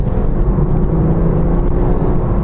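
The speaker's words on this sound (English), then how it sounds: "There's a very strong pull from the 3-litre diesel engine" A 2015 BMW 330d M Sport (F30) with its 3-litre diesel engine pulls hard under acceleration in Sport Plus mode, a steady, strong low drone that stays continuous and unbroken, heard alone without talk.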